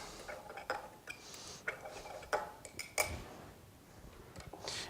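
A knife blends chili powder seasoning in a small dish for taco night, with soft, irregular clicks and scrapes of metal against the dish, quiet and close.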